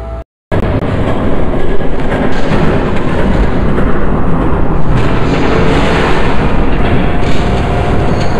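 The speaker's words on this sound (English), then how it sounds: "There's a train coming! Take cover!" A loud, continuous rumbling roar of a video game train rushing close by, steady and dense after a brief silent gap at the start, in Batman: The Telltale Series.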